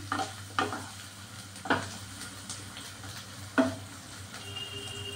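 Ingredients for pasta fry in a pan with a steady, soft sizzle, broken by a few sharp scrapes and clinks of a stirring spoon, close by and with no talking.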